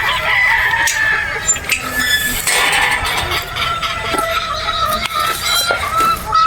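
Several roosters, battle stags on a game farm in Batangas, crow and cluck together in a loud, busy chorus that overlaps throughout, with a voice faintly mixed in.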